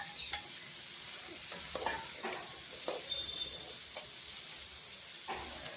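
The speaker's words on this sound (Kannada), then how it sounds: "ಇವಾಗ ಬೇಯಿಸಿಟ್ಕೊಂಡಿರೋ ಕಾಬೂಲ್ ಹಾಕೋಣ." Cooked kabuli chickpeas stirred in an oiled frying pan, with steady sizzling and repeated scraping stirs, close and moderately quiet, no talking.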